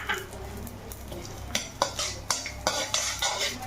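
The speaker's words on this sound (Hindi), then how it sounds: "अब इसमें हम जो हमने खसखस ली है खसखस को भी हम इसमें भून लेंगे" Poppy seeds dry-roasting in a pan for sonth-gur gond laddoos, stirred with a spatula that makes rhythmic metallic scrapes and taps over a faint sizzle, growing busier in the second half. No talking.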